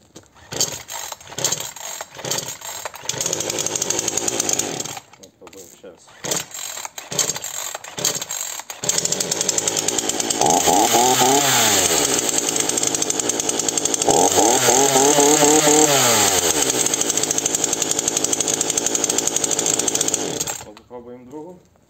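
Titan TTL759CHN 40cc petrol chainsaw with a 40 cm bar, pulled several times in short sputtering bursts before catching, then running loud and close, revving up and down twice before cutting off. Someone speaks briefly during the clip.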